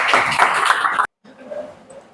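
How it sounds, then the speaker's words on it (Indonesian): A classroom audience claps after a presentation, a dense burst of applause for about a second that cuts off abruptly, followed by faint room noise and a soft voice. "Kasih tepuk tangan dulu."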